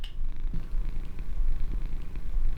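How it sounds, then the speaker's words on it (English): A cat purring steadily and close by, a continuous low rumble with soft rhythmic pulses, with no talk over it. "my cat is just sitting here purring"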